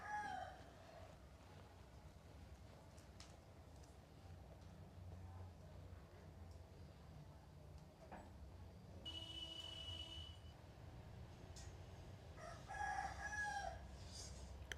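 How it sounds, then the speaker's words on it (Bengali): A rooster crows from a distance over steady low background noise, with a faint second crow near the end. "মুরগিতে ডাহে না"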